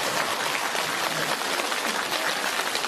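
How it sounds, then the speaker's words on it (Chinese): Audience at a Buddhist Dharma assembly in Hong Kong applauding, a dense steady wash of many hands clapping throughout. "鼓掌。"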